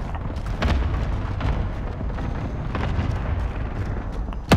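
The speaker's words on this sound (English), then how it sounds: "Allied cluster strike arriving." Cluster strike in Call of Duty: Modern Warfare: a dense, continuous barrage of overlapping explosions and rumbling booms, with sharper bursts around the middle and a loud impact at the very end.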